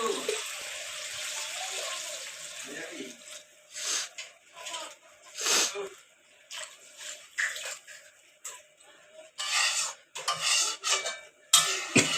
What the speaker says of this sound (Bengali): এবার আমি কিছুটা পরিমাণ জল এতে দিয়ে দেবো